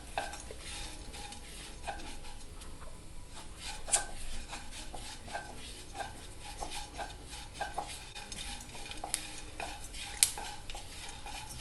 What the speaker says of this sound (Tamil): மசாலா சாமான்களை சேர்த்து வறுத்துக்கலாம்.